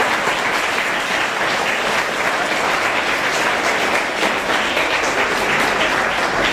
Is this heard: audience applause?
yes